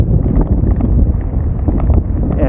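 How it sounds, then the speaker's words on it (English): Strong wind roars and buffets the microphone continuously outdoors near a campground during a cross-Canada bicycle tour, loud and close throughout. "Very windy today."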